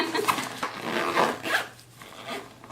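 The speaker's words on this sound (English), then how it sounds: "let me zip this up and show you what it looks like zipped up" A Lavievert makeup organizer toiletry bag being zipped shut, several zipper pulls of varying speed over a couple of seconds, close and clear with no talk.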